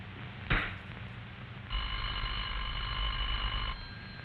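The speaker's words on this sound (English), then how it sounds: "You'll hear a clear, evenly spaced ring that sounds like this." A telephone ring signal from The Legend of Zelda: The Wind Waker HD sounds as one steady electronic ring of about two seconds. It follows a brief click, plays over a low background hum, and no one talks.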